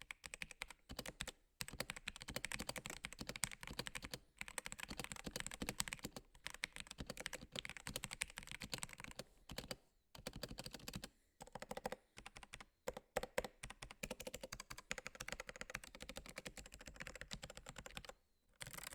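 A budget thirty-dollar mechanical keyboard with playmat foam fitted inside, typed on rapidly and steadily up close, producing dense muffled clacks in bursts with brief pauses between runs.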